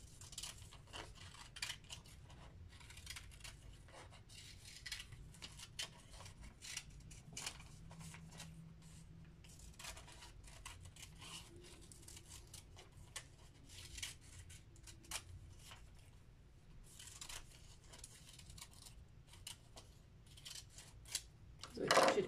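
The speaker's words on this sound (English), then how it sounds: "You will also cut those lines." Scissors cut lines through paper shape cutouts with soft, repeated close snips and rustling paper scattered throughout, quiet and steady without talk.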